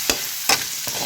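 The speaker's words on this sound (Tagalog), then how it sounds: "di nagisa nyo na yung sibuyas. Ang ginamit ko yung yung pulang sibuyas." Red onions sautéing in a hot pan as a continuous close sizzle, broken by three sharp stirring scrapes at a steady pace.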